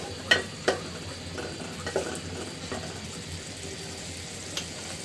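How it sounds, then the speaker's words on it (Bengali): A spice paste of ginger, turmeric, chilli and coriander fries in a pan, a quiet low sizzle punctuated by a few sharp metallic clinks of stirring, mostly early, with no voices. "এখানে হলুদ মরিচ ধনিয়া সব কিছু দিলাম। দিয়ে এখন মশলাটা খুব ভালোভাবে কষিয়ে"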